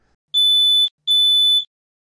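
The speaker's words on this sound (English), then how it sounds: "install smoke detectors in your home or in the home of a friend or neighbor" Two loud, piercing electronic beeps from a home smoke detector alarm, each about half a second long with a short gap between, clean and alone.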